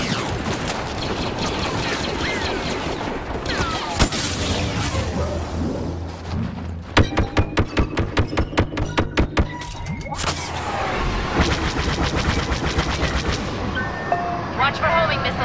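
Star Wars Battlefront gunfire and explosions, with rapid repeated blaster bursts, thuds and mechanical clanks layered over a busy battle din, with speech mixed in.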